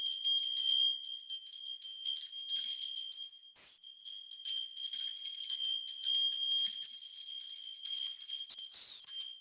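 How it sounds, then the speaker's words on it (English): Bright, sustained ceremonial bell tones ring continuously at a winter solstice ceremony, with shimmering overlapping strikes, steady and fairly close, with only a brief dip partway through. "I'm going to do that for this purpose with bells."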